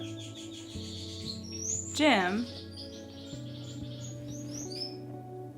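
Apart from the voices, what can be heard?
pet finch singing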